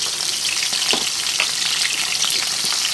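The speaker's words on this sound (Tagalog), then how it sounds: "apat lang muna natin ipiprito" Steady, dense sizzling of tilapia frying in hot oil, with small crackles and pops throughout, close and fairly loud.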